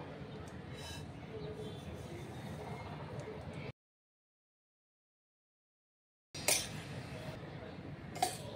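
Roasted grated coconut is tipped into a bowl of semolina for a rava karanji filling, with soft utensil clinks and scraping near the bowl, broken by a short silent gap before faint clatter resumes.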